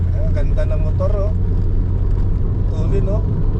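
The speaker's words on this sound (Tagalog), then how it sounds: "Ang ganda ng motor, oh." A motorcycle rides a road near Nasugbu, Batangas at speed, giving a continuous low engine rumble and wind rush under people talking loudly close by.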